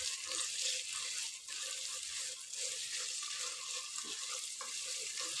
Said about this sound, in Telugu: ఒకసారి మనం ఆయిల్లో పుదీనాని ఫ్రై చేసుకోవాలి